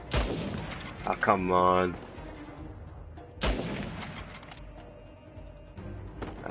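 Two sharp, booming sniper rifle shots ring out a few seconds apart in the video game Uncharted 4, each with a short echoing tail, while a man reacts briefly.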